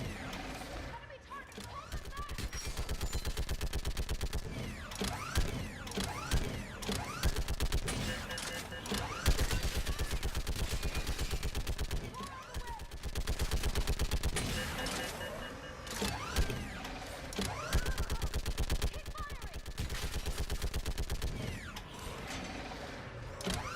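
A mounted gun in the video game Mass Effect 3 fires continuously in a dense mechanical rattle that goes on throughout. It is moderately loud, with a short break near the start and faint talk underneath.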